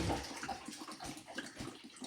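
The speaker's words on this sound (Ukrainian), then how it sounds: "Зараз будемо вручну наливати воду." Water poured by hand into a tub for doing laundry at home, a short gurgling, splashing flow with uneven bursts, fairly close and moderately quiet.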